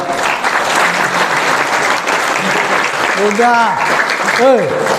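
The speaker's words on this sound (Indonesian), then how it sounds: "Giliran tuan rumah tepuk tangan" An audience claps at a religious sermon at an Islamic boarding school in East Lombok, steady mid-level applause throughout, with a voice and rising tonal sounds over it.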